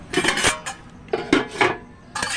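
A metal spoon clinks against dishes in a few bright, close strikes and scrapes, separated by short pauses, with no talking.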